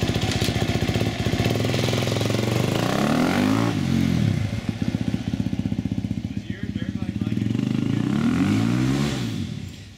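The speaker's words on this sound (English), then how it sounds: "Does my dirt bike like it when I choke it?" A 2017 KTM dirt bike engine revs repeatedly up and down at a test day at a motocross compound, loud and close with sweeping pitch climbs and drops over a rattling idle, while voices talk beneath it.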